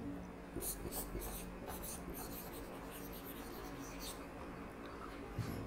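A marker squeaks across a classroom board in short repeated strokes, faint and high, over a steady room hum.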